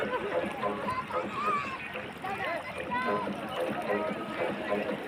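A boat carries people across floodwater covering a broken road in Magura, with soft splashing and lapping water under nearby people's talk.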